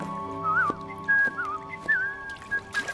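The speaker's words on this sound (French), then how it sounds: "Un perroquet qui siffle à la manière de Bunty?" A parrot whistles a short warbling, tuneful phrase several times over about three seconds, clear and fairly close, over a low steady hum.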